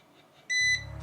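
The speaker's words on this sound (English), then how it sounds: "you literally just turn it on here and hold it down and it'll beep and flash" A handheld beauty device gives one short, clear electronic beep as it is switched on and held down. Afterward a low steady hum sets in.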